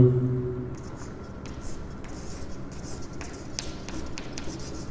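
A pen scratches across paper in short strokes while a student's geometry solution is written out, faint and close, with a low hum underneath.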